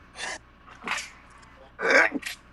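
Several short, breathy bursts, close up, the last one loudest, like a sneeze with sharp intakes of breath before it.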